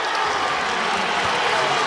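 Belmont fans in a packed college basketball arena during the 2025 Missouri Valley Conference semifinal against Drake roar and applaud after a game-tying shot, a dense steady wash of crowd noise.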